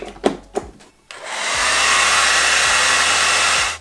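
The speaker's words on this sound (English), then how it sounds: "It means she can dry her hair on the road as well." A few clicks and knocks, then a 2,000-watt hair dryer switches on and runs with a loud, steady whooshing roar and low motor hum.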